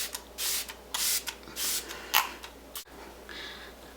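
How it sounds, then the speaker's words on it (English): Smashbox Photo Finish Primer Water setting spray misted onto a face: several short bursts of fine hissing spray in quick succession, close and crisp, followed by a soft click and quiet handling. "So I'm just going to spray myself very generously with this"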